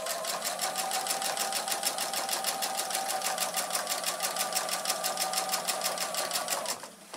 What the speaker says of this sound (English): I'm going to do a fraction of an inch, sewing the red down to the denim